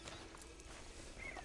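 Horse hooves clip-clopping at a walk in the Western video game Red Dead Online, a steady muted rhythm under a dense ambient bed, with a brief whistle-like tone near the end.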